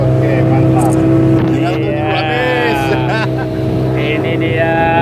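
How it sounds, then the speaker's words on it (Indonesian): A speedboat ride on the sea off Aceh, Indonesia, with a loud, steady outboard engine drone and rushing water throughout, and people talking over the engine noise. "Iya, naik speedboat."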